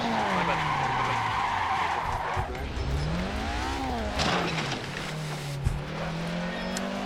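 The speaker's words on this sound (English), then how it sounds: "looks like somebody decided to ram me on purpose" Race cars in Assetto Corsa at a Sunday Cup round at Cleveland Burke Lakefront, with a loud engine whine rising and falling, tires skidding and a brief thud of contact as one car rams another, all close and continuous.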